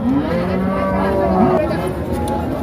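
Cows and calves at a cattle market, with several loud, close moos overlapping in long drawn-out calls against a busy background of crowd noise.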